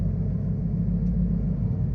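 Steady deep engine rumble inside a Lamborghini during a ride, a continuous low drone with no distinct revs, loud and close from the cabin.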